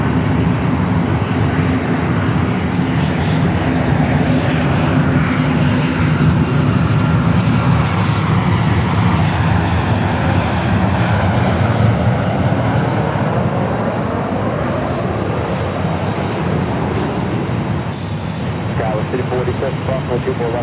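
Airliner engines roaring continuously at Los Angeles International Airport as the jet departs for Germany, a loud, sustained rumbling wash with a faint high whine near the end and voices talking over it.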